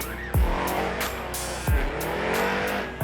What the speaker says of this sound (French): C'est un moteur de Corvette Supercharge qui développe pas loin de 750 HP dans un lowrider.